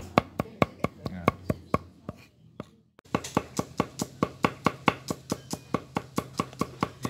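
A knife chops spices, garlic included, on a cutting board for Balinese chicken garang asem, striking in a quick, steady rhythm of sharp close taps, pausing briefly, then resuming faster.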